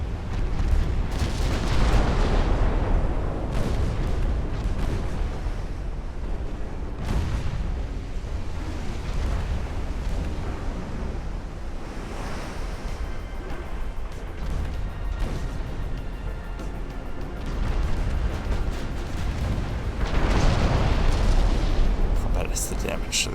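Repeated explosions and booming blasts from a flash fire aboard a warship in Ultimate Admiral: Dreadnoughts, surging in waves over a steady rumble, with someone talking over much of it.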